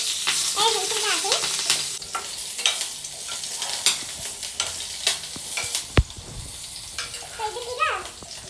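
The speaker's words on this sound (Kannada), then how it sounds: "ಇದಕ್ಕೆ ನಾನು ಜೀರಿಗೆ ಹಾಕ್ತೀನಿ, ಸ್ವಲ್ಪ ಮೆಣಸಿನ್ಕಾಯಿ 2 ಮೆಣಸಿನ್ಕಾಯಿ ಹಾಕಿ" Cumin seeds and two green chillies sizzling in hot oil, with a steady close crackle running throughout, sharp pops and spatters, and a stirring scrape near the middle.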